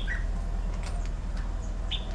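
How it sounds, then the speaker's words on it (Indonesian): Seagulls calling near an abandoned historic building, a few short squawks and cries scattered over a low steady background rumble, moderately distant. "burung-burung camar."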